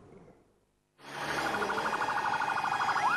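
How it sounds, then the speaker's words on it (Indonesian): After a brief hush, West Jakarta fire engine sirens start up loud and close, arriving at a burning soy sauce warehouse, wailing in a fast, steady warble with engine noise underneath. "Mobil dinas pemadam kebakaran Jakarta Barat berdatangan ke gudang ABC"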